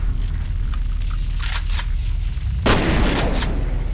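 Shotgun fire in the video game F.E.A.R.: a few sharp blasts, with one loud, close, broadband shot near the end over steady game background noise.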